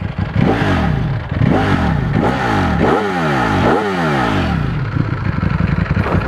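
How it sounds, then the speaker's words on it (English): A Ducati Panigale V4S four-cylinder motorcycle roars through repeated loud, close revs as it accelerates hard, rising and falling in quick succession, with crackling pops between pulls and no talk over it. "the little popping sounds it makes actually, but it obviously is a 4-cylinder bike"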